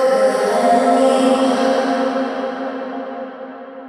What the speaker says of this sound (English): this tail will be our reverse reverb